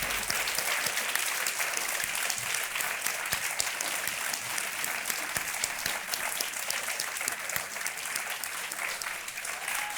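Studio audience applauding on the KBC quiz show set: continuous, dense clapping from a large crowd, steady and even throughout, with no voices above it.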